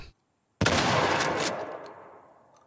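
A single loud gunshot from a weapon in The Last of Us remake, an abrupt crack followed by a long, noisy decaying tail that fades over about two seconds, heard alone with no talk.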